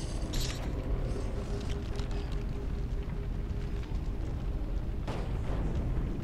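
Explosions in the video game Lego Universe under a steady dense rumble, with a couple of brief sharper bursts near the start and toward the end, no voices.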